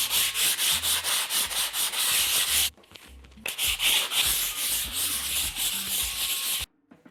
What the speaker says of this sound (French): dans la série « Je ponce, tu ponces, il ponce »